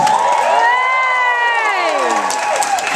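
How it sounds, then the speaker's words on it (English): A crowd at the Hamburger Queen 2018 show cheers and claps for a judge, a loud continuous roar with whoops and a sweeping tonal whistle or squeal riding over it. "Round of applause for Sophie Hagen,"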